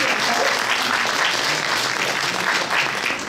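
Dense, steady audience applause at a cosplay contest during a geek convention, loud and sustained throughout with no pauses.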